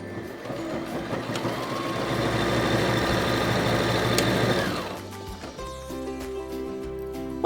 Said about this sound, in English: And we want to stitch that up.